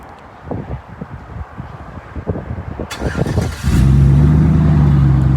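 Car with an aftermarket exhaust, previously fitted with a Flowmaster Super 40 muffler, cranking over with clicks and thumps before the engine catches and settles into a loud, steady close rumble.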